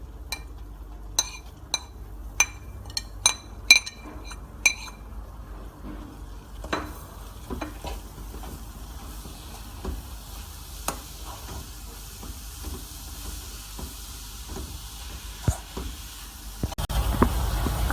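Coconut is stirred into sugar syrup in a pan, with sharp utensil clicks and taps against the pan early on, then a quieter steady hiss with occasional scrapes and a louder rustle at the end.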